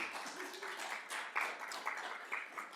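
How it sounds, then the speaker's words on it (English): An audience claps in a round of applause, a dense, steady patter of many hands at moderate distance with a few sharper individual claps standing out, continuing throughout. "Let's give them a round of applause"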